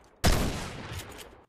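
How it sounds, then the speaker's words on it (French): One loud, booming shotgun blast from Fortnite hits abruptly after a short silence, then rolls off into a long, fading echo. "Et ça, c'est le bruit d'un fusil à pompe dans Fortnite."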